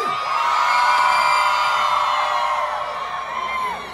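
A concert crowd at a show in Dallas cheers, whoops and shouts loudly, a dense sustained roar that fades slightly toward the end.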